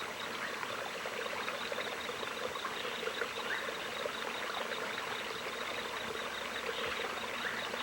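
Water from a stream runs over flat, smooth rocks in a steady, continuous trickling babble, moderately close and unchanging, with no voices.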